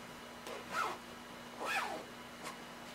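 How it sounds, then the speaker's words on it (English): An invisible zipper on a sewn garment being pulled closed, two soft, quick zipping strokes about a second apart, close and quiet against near silence. "grab your zipper pull, and close your zipper."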